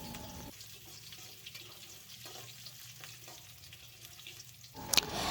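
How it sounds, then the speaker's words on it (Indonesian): Vegetables stir-fry with oyster sauce in a pan, a low continuous sizzle with soft stirring scrapes, ending in a louder clatter near the close. "Nah ini kita tumis semuanya sampai harum."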